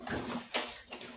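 A ratchet loosens the bolts on the deck of a Toro Recycler mower with a Briggs engine, giving a short burst of close metallic clicking and then a brief grinding rasp, with no talk.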